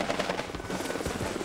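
Helicopter rotor blades chop rapidly in a steady, moderately loud rhythmic beat, heard close and continuous with no talk.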